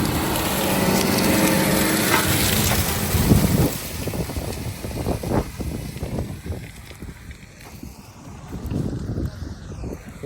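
A BEDNAR Swifterdisc XO disc harrow with a Trush Cuttor chopping roller working a sunflower field at speed, giving steady broadband rumble and clatter that is loud at first, then drops to a rougher, uneven churning with wind noise.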